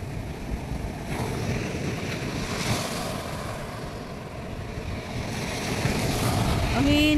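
Ocean waves rolling onto a black sand beach at Sta. Catalina, Ilocos Sur, a continuous rumbling surf with wind buffeting the microphone, swelling louder toward the end.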